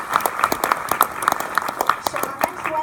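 An audience claps for a Peking opera performer, the hands striking in a loose, uneven patter of distinct claps, fairly close and moderately loud, with a tonal, voice-like sound sounding in a repeating pattern over the claps.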